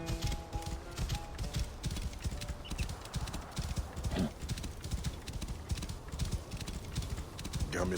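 A horse's hooves clip-clop in a steady trotting rhythm, close and distinct, in the game Assassin's Creed Origins, with faint background music and ambient sound beneath and a brief neigh partway through.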